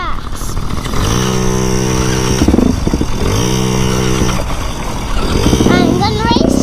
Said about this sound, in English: This might be my most fun day ever riding motorcycles, Presley.